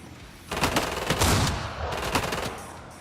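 Gunfire in the video game Killing Floor 2: two loud bursts of rapid automatic fire separated by a brief lull, dense and sustained, over quieter background game ambience.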